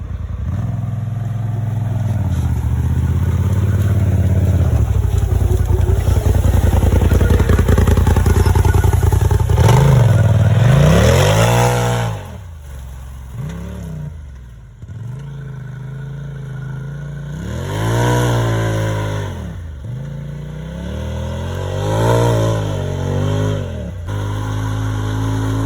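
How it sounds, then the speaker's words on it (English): Polaris RZR side-by-side running loud and near at a farm pond, engine droning steadily, then revving up and down in repeated swells with some clatter, no talk. "We're gonna use my brother's RZR to seed this Japanese millet."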